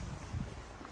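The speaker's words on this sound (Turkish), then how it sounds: "Rüzgar var baya." Gusty wind rumbles and buffets the microphone outdoors on a rainy holiday day in Turkey, a steady low roar running through the whole brief moment.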